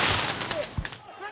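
Tear gas canisters fired at protesters during a police crackdown, heard as a cluster of sharp, gunshot-like pops and bursts over a noisy crowd backdrop, with voices faintly mixed in.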